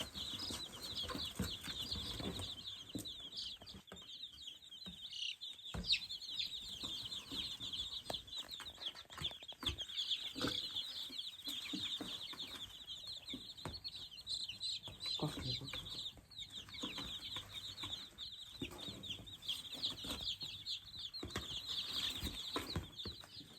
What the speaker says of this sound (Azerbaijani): Biz cücələrimizi buraxırıq öz qəşəng evlərinə.